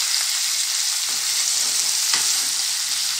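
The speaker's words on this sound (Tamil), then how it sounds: "இப்போது நல்லா தக்காளி முருங்கைக்காய் வெங்காயம் எல்லாமே இந்த ஆயிலில் நல்லா பரவுற அளவுக்கு வதக்கி" Tomato and drumstick with onion sautéing in cold-pressed coconut oil in a pan, a steady close sizzle with a few soft stirring scrapes, no talk.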